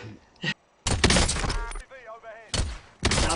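Kar98 bolt-action rifle shots in an online shooter game crack out as a few sharp, loud bursts separated by gaps, with a player's voice talking between them.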